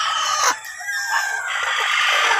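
Rhode Island Red chickens cluck and call close by, a steady run of fowl noises with a brief dip partway through, no talking.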